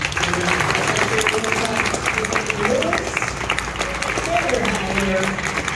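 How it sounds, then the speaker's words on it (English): Fans at the Daytona Fan Forum applaud the NASCAR drivers, including Harrison Burton and Zane Smith, with sustained crowd clapping while a voice talks over it. "we want to give a big round of applause for all these drivers giving their time"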